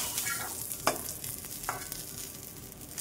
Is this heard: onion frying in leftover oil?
yes